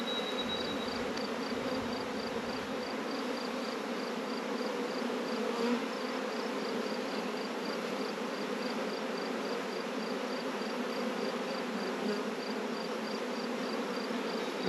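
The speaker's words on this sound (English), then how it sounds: "Sun's coming out and those bees are getting louder." Honey bees swarming around an open hive as the sun comes out, a dense continuous buzzing drone close by and steady throughout, with a faint high whine running over it and no talking.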